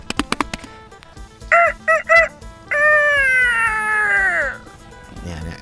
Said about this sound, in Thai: ไก่มันขันนะไก่ทุกเช้าโอ้ทั้งวันเลยแหละไก่ชนเนี่ย